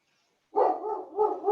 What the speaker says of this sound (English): Sir, is it your dog?